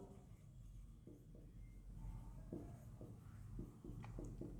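Chalk or marker writing on a board during a geography lecture, quiet irregular scratching strokes in short bursts over a low room hum, with no one talking.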